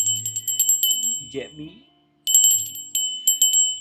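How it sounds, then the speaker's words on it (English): A bell rings in quick repeated bright strikes, pausing while someone speaks briefly, then ringing again in a rapid flurry. "hope you like the sound of the bell"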